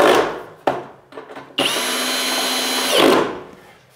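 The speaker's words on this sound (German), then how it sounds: "So, dann nehme ich mir meinen Akkuschrauber." A cordless screwdriver drives a screw into drywall while a bathroom niche is being built: a few short clicks and handling noises, then one sustained high whine for about a second and a half that winds down, close and clear.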